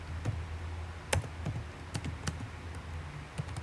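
Someone types a network switch command on a computer keyboard, a short run of close, irregular key clicks and taps with no talking.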